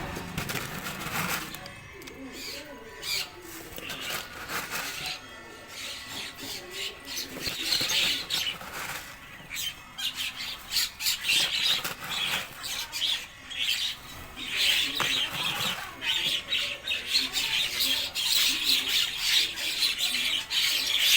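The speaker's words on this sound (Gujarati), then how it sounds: "પક્ષીઓને આપણે સેવ નાખી દઈએ." Birds in a village setting feed on scattered sev, their chirps and squawks mixing with continuous scratching and pecking noises over a busy outdoor background.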